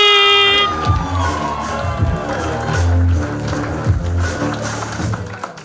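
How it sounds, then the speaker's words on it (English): A comedy show audience claps and cheers in a busy, noisy roar after a short musical sting, with some voices shouting over the applause. "Let's have some clapping and cheering all the way from Brazil"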